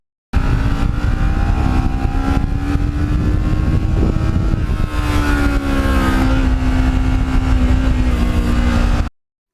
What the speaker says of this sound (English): I'm always glad this bike has a nice quiet, a stock muffler